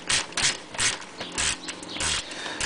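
Ratchet wrench loosening a 9 mm nut underneath a Ford Mustang GT during an oil change: a series of short, close metallic clicking bursts, roughly four or five quick strokes with brief pauses between them, loud and alone.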